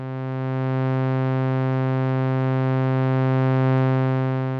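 A steady sawtooth oscillator tone from the Arturia Modular V software synthesizer holds one buzzy, harmonically rich pitch for several seconds at an even, moderate level.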